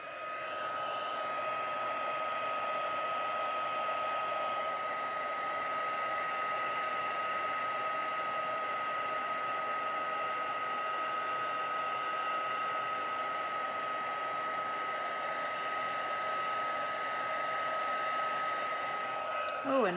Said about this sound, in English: I will have my heat gun heating up